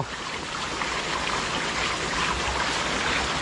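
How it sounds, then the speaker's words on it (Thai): Strong gush of water pouring from the outlet hose of a 4-inch papaya-type centrifugal water pump, a steady, loud broadband rush that does not let up and has no one talking over it. "นี่ครับ ความแรงของปั๊มมะละกอ"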